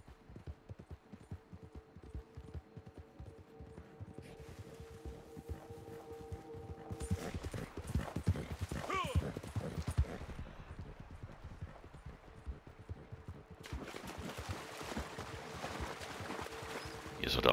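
Horse hooves clip-clop steadily during a ride in Red Dead Redemption 2 Online, moderately loud with ambient game sound around them and no talking.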